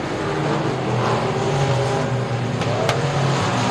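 Race cars racing at Rocket Raceway Park, a dense continuous roar of engines at moderate distance with a faint tire squeal, no voices.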